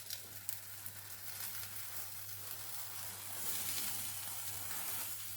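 Korean rolled omelette frying in a pan, a steady soft sizzle running throughout at moderate level, swelling slightly toward the end, with no talking.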